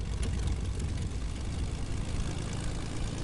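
A Fortnite airplane engine drones steadily at close range, a dense, even rumble with a throbbing low end and no pauses.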